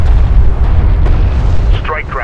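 A heavy explosion booms as a strike craft is destroyed in the real-time strategy game Homeworld: Deserts of Kharak, deep rumbling blasts layered with battle noise and a brief radio-like burst near the end.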